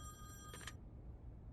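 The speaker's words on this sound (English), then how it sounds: "Answer the phone, Snow." A telephone rings in The Wolf Among Us: a single bright electronic bell burst lasting under a second, then stops, leaving quiet room tone.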